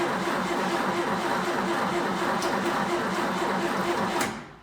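A fuel pump on a 1962 Jeep M170 ambulance runs in a steady, dense mechanical buzz that holds level for about four seconds before cutting off.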